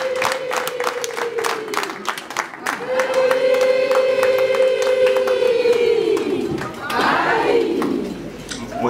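Wedding guests ululating at a ceremony in Musanze, Rwanda: long, loud, wavering high trills rising and falling over rhythmic hand-clapping, with a second burst of ululation near the end.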